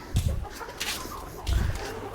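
A few short clucks from desi hens nearby on a small farm, two louder bursts separated by a brief lull, with faint background noise.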